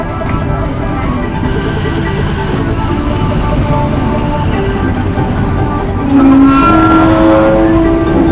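The Disneyland Railroad train rumbles steadily along with a constant low roar and faint high squeals, growing slightly louder near the end as a tonal screech joins in.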